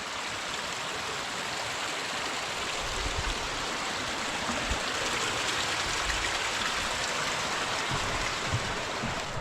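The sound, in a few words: stream of water flowing beside a portage trail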